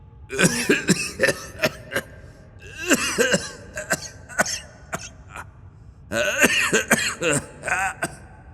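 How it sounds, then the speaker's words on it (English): A person coughs repeatedly in harsh clusters, with short pauses between fits, close and fairly loud against a quiet background. "How long have you had that cough?"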